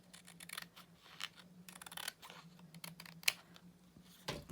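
Trimming the edge of an oval scene card: faint, close snips and small paper-cutting clicks scattered over a quiet low hum, with no talking.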